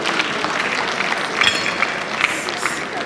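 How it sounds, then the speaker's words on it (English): Audience applause at a Lagos State women's event as Pharmacist Mrs. Uzamat Akibile Yusuf is invited on stage, a steady wash of clapping with scattered louder claps, mixed with voices throughout. "Please can you applaud as I invite up on stage Pharmacist Mrs. Uzamat Akibile Yusuf."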